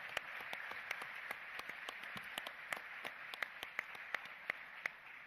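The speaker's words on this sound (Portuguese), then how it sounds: "Uma salva de palmas para todos, por favor." Scattered applause from an audience at a panel session, a few sparse, uneven claps over a steady background hiss, fairly quiet and distant.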